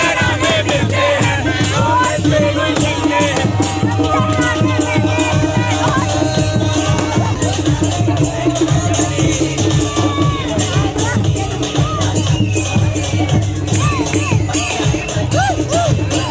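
A crowd of wedding guests dances and jostles at the venue gate of a Kumaoni Pahadi wedding, a loud dense roar of voices over thumping band music and drums that runs continuously throughout.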